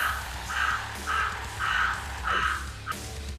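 A crow cawing in a fable, a steady series of five harsh, drawn-out caws with even spacing, loud and close, with no talk over them.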